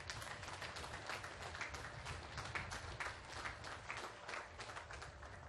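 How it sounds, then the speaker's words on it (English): A ship commissioning ceremony for the USS Charleston, LCS 18, where the audience claps in a continuous, moderately distant patter, steady and fairly faint, with no one speaking over it. "please give yourself a round of applause"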